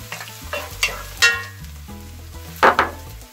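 Chopped garlic and green chilli fry in hot oil in a pan, with a steady sizzle broken by several sharp metal scrapes of a stirring spoon against the pan, close and fairly loud.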